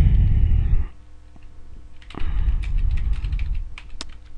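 Short bursts of typing on a computer keyboard while composing an email, scattered close key clicks after a brief low rumble, no talking.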